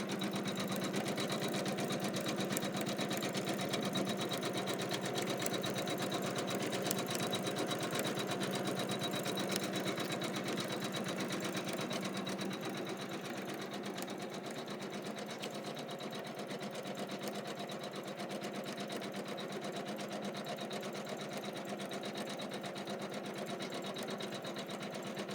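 A sewing machine stitches around a quilted Kimberbell Wet My Plants mat, humming in a long, steady, even run at moderate volume with no talk over it.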